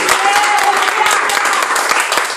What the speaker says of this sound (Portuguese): Por isso eu peço uma salva de palmas aí para o Senhor Jesus.